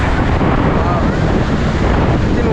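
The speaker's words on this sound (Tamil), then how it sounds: "காற்று பார்த்தீங்களா?" Strong wind at Pondicherry's Gandhi Beach roars continuously across the microphone, a loud, unbroken buffeting rumble with faint surf underneath and no break for its full length.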